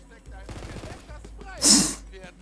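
Gunfire from a fight against skeleton enemies in the fantasy shooter Tiny Tina's Wonderlands, a cluster of quick shots and a loud blast standing out briefly among softer game sounds and talk.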